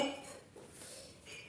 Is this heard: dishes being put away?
yes